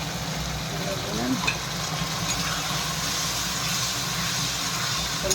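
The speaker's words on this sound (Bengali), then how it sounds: "এটা মশলাটা ভালো করে ভেজে নিই লাল লাল করে।" Spice masala for Bengali-style ghugni fries in a pan with a steady, even sizzle throughout, close and continuous, with faint background hum and no clear speech.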